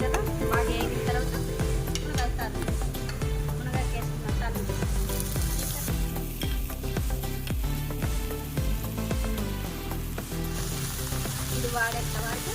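Onion frying in a pan with salt and turmeric gives a loud, dense, continuous sizzle that holds steady throughout, with a few sharper crackles on top.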